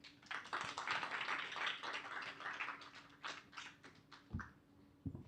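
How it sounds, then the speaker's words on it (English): A Toastmasters club audience claps for a speaker, with a dense burst of applause that thins out into a few scattered, separate claps toward the end. "Give him another round of applause, please."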